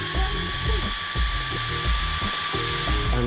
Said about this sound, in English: Now, I will note that the fan is very loud